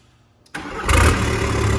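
A Volkswagen Eurovan TDI diesel engine, started with a new key, cranks and catches after a short quiet moment, then runs loud and close with a brief rise in revs before settling into a steady rumble.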